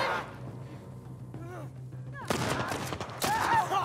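Gunfire in the video game The Last of Us Part 1 comes after a quiet stretch as a few sharp bursts, then a louder cluster near the end.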